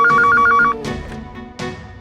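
A telephone rings in a jeweller's shop as a call is placed to the police station: a bright, loud electronic trill repeating rapidly for under a second, then a synthesized line tone and chimes sounding alone, up close.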